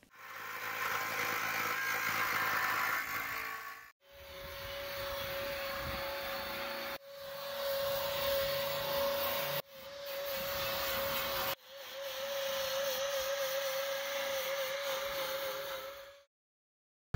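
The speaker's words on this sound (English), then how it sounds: "I'm going to put another hole in the manifold." Continuous harsh grinding as a hole is cut through a metal barrel manifold for a rocket mass heater, running in four long bursts with brief pauses and a steady whining tone throughout, close and loud.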